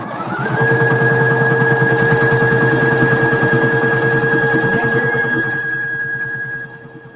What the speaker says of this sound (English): this is gonna be like the tack down stitch that we get ready to do